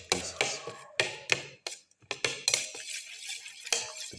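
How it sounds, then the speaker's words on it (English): Ginger pieces and chopped tomato being stirred into a beaten egg mixture for a black pepper moringa leaf omelette, with a series of sharp clinks and scrapes of a utensil against a bowl in an irregular rhythm, close and fairly loud. "Now put in the ginger pieces. Mix in the ginger pieces"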